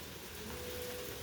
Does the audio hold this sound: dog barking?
no